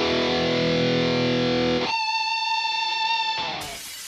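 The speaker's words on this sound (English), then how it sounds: "The Source Audio Collider is a multi-effects delay and reverb all-in-one compact box" A Source Audio Collider delay and reverb pedal colours a sustained, distorted guitar chord that cuts off into a ringing reverb tail of shimmering tones, then a burst of brighter wash near the end, with no talking.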